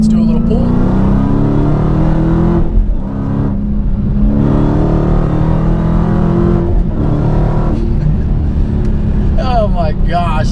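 A Dodge Hellcat's engine roars loud and close as the car accelerates hard, revs climbing and dropping through gear changes over about ten seconds, with a voice briefly talking over it.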